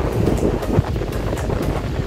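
Wind and surf roll in on the white sand beach at Aravali near Shiroda on the Konkan coast. Steady, loud wind buffets the microphone over a constant low roar of waves, and no one speaks.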